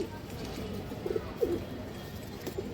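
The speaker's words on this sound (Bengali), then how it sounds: "আরও একটা নর কবুতর, এটা সিলভার একটা কবুতর দর্শক" A male silver pigeon gives soft, low cooing calls in short bursts, fairly faint against a quiet background, with no talk over it.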